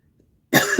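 A single harsh cough bursts out after a moment of silence, close and fairly loud.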